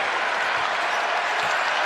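Basketball crowd in Dayton rising with loud, sustained cheering and applause at a tied game, a dense roar filling the arena.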